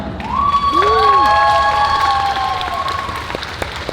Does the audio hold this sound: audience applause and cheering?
yes